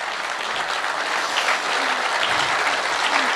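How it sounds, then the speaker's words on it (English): Warm, steady clapping from a seated audience at a political party meeting introducing state executives, many hands together at an even level throughout, with a few faint voices mixed in. "round of applause for that"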